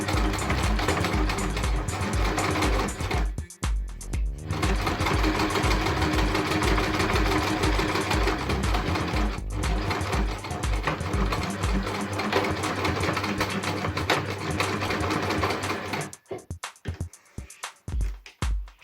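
A sewing machine stitches a fabric protective face mask, forming the channel for the elastic or tie cord. It runs as a loud, close, continuous whir with brief pauses near the start and middle, then stops toward the end.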